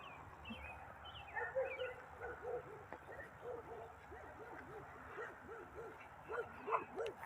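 A dog barks in a rapid run of short, sharp yips and woofs close by outdoors, mixed with whimpers, while someone talks faintly over it.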